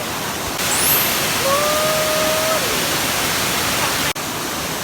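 Steady, loud broadband rush of a waterfall on a mountain trail, constant and close throughout, with a faint thin whistle-like tone briefly over it and a short dropout near the end.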